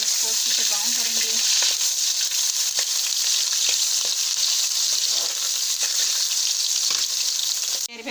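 Sliced onions sizzle and crackle steadily in hot oil as they brown for a turnip bhujiya, a loud dense hiss throughout with faint stirring clicks and brief muffled voice near the start.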